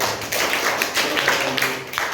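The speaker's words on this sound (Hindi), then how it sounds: "इसके लिए 2 तालियां बजाओ" A class of schoolchildren claps in a crowded room, producing a burst of overlapping hand claps and taps that stays loud and close throughout.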